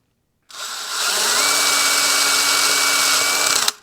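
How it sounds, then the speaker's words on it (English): An electric drill with a sheet metal bit enlarges holes to 5/16 inch during repairs on a Suzuki RM250 motorcycle, giving one steady high whine that spins up, holds for about three seconds and cuts off abruptly, close and loud. "I need to increase the size of these holes to about 5/16. I'm going to do that with a sheet metal bit."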